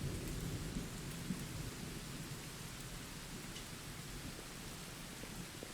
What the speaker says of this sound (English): I love the sound of rain in my ears right now.